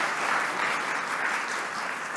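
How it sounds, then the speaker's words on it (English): An audience at a morning community summit gives a collective round of applause as a thank-you, dense steady clapping throughout, fairly close and even in loudness. "So maybe just kind of collective round of applause to say thank you."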